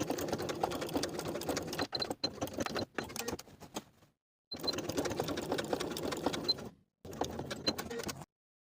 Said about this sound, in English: Now I'm going to sew from edge to edge along the top and bottom horizontal lines